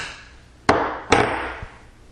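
Two sharp metallic clacks, close and loud, from the bolt slide of a Mossberg 500 pump shotgun being worked free during field stripping, followed by a fainter third knock.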